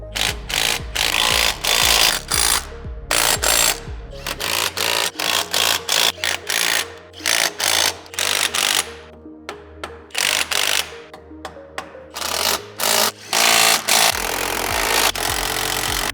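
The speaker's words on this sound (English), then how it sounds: "Now we're going to go through and fully tighten all of the suspension hardware" Suspension hardware bolts on a Polaris General XP are tightened with a power tool, loud close bursts of rattling whir in quick uneven pulses separated by short pauses.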